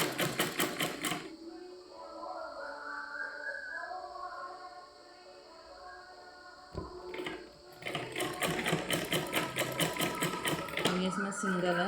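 A sewing machine runs a rapid, rhythmic rattle while putting a double chain stitch into fabric, first in a short burst and then in a longer run, with a person talking in the quiet gap between.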